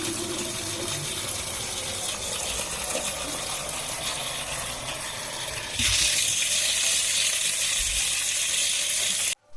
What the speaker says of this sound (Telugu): బోరు ఆన్ చేయగానే మొత్తం గులాబీ కలర్ నీళ్ళు వస్తుంది